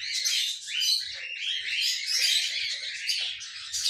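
Pet lovebirds and cockatiels chirp and tweet continuously in quick, shrill overlapping calls, close and fairly clear, with no talking.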